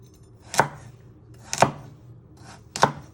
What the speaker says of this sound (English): And we're just chopping them into little pieces.